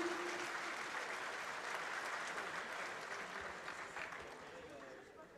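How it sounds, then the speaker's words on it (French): Spectators at the Coupe de France 2024 petanque final give a faint, distant round of applause. The steady clapping patter fades gradually, and a voice can be heard faintly at the start. "on peut les applaudir"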